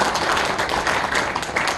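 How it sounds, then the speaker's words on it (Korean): A seated audience gives a short burst of dense, continuous clapping at a memorial association's founding meeting in a small National Assembly meeting room, steady and fairly close. "다시 한번 큰 박수 부탁드리겠습니다."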